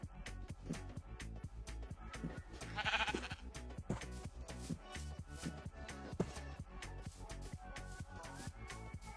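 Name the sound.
sheep bleating, from a video game (Minecraft)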